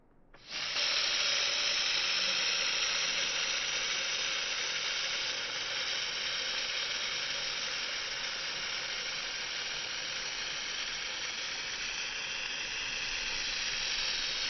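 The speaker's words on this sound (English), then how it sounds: "So just for you, Josh, I'm going to do some spray painting." Spray painting on a Peugeot 106 S1 Rallye rally car project: a steady, loud hiss of the spray gun starts abruptly and runs continuously for the whole stretch, close by, with no talking.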